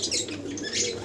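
Pigeons kept by a fancier give a soft, throaty coo, one brief close call with faint chirpy overtones and no talking.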